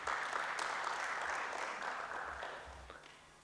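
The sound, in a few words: applause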